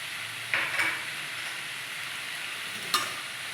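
Green chili and ginger paste with turmeric fries in a pan with a steady, fairly loud sizzle, marked by two sharp scraping stirs of a spatula against the pan.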